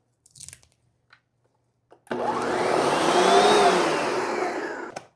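Countertop blender puréeing a vegetable soup with spice blend, cilantro and dill, a loud whirring burst of about three seconds after brief clicks, then cutting off.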